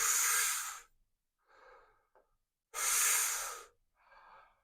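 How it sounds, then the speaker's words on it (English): Deep Wim Hof–style breathing: two strong, close inhalations, each followed by a soft, unforced release of breath, alone with no talking. "And then we softly let the breath go without force, but we're breathing in."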